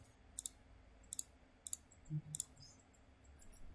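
Sharp computer mouse clicks come in small clusters at a steady pace, quiet and close, over a faint room hum, with no talking.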